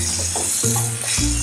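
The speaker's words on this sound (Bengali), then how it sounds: "তারপর ভালোভাবে এর সঙ্গে নাড়াচাড়া করে ভেজে নেব।" Pieces of coriander chicken stirred and fried in a pan, with a steady close sizzle and several scraping stirs of a spoon against the pan.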